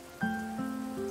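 Steady rain patters on surfaces in the video game Tower of Fantasy, a soft continuous hiss under sustained tonal music notes throughout.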